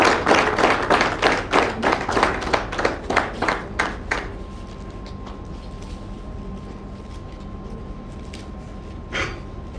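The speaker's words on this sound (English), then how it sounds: "Please, let's continue the round of applause." At a professional assembly event, a group claps in a quick, rhythmic run of distinct beats that fades out after about four seconds, leaving a quiet room with a steady faint hum and one lone later sound.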